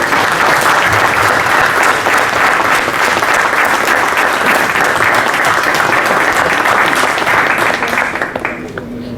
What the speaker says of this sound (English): Please join us in welcoming Mr. Vipin Gupta with a huge round of applause.